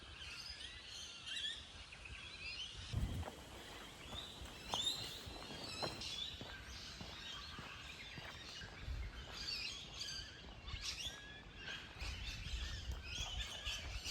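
Several birds chirp and call on and off over a quiet outdoor background, with a few soft footstep-like thumps.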